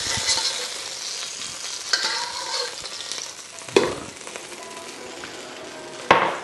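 Beef sizzles in a hot wok with the extra fat from the cut, a loud close frying hiss broken by sharp metallic clanks of stirring at irregular intervals.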